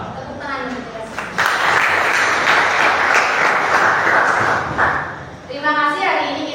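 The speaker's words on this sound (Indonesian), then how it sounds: "Tepuk tangan untuk kita semua." Applause from a school audience in an Indonesian classroom or assembly bursts out after a spoken greeting, keeps up steadily for about four seconds and then fades as the speaking voice comes back.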